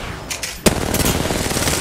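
Automatic gunfire in the battle royale shooter Apex Legends, a sharp shot onset followed by a rapid continuous burst of rounds, loud and close, with no talk over it.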